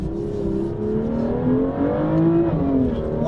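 A BMW M2 high-performance car revs hard while drifting, its engine note climbing and wavering in pitch with loud, sustained roar and no talking.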